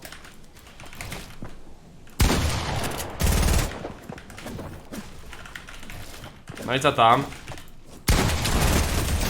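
Bursts of rapid gunfire in Fortnite crackle in short volleys, mixed with game sounds and a brief spoken phrase.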